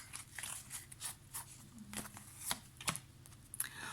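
Oracle cards are drawn and laid out on a table, a run of small, close, soft clicks and taps coming irregularly in quiet, with no one talking.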